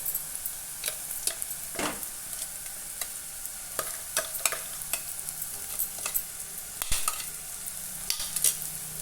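Garlic paste being stirred into fried onions in a pan for an egg fry, a constant frying hiss broken by repeated sharp spoon scrapes and taps against the pan, close and moderately loud, no talking.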